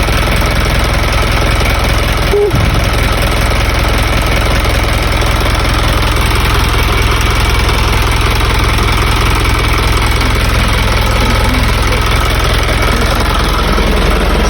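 An Isuzu Elf truck's diesel engine runs at a loud, steady idle with a knocking clatter, a brief thump near the start as it catches, then continuous rumble throughout.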